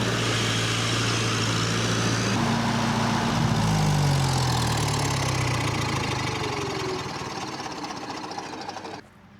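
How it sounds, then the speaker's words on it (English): A tractor engine drones loud and steady, its pitch sliding down as it passes close by, then the rumble thins and fades toward the end, with no talking. "There goes another tractor by."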